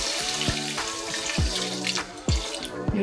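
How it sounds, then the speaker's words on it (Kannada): Water pours into a warm pan of vermicelli, a close splashing stream with a few gurgling surges and no talking. "ಈಗ ಇದಕ್ಕೆ ನೀರು ಹಾಕೊಳ್ಳೋಣ."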